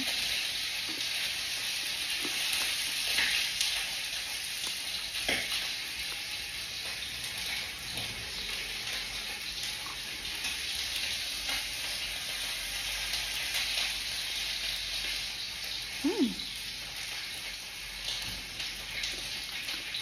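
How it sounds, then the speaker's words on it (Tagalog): Steak frying in a pan, a steady broadband sizzle and crackle that runs the whole time at moderate level, with occasional faint pops and a brief stir or scrape near the end. "What are you cooking? Steak."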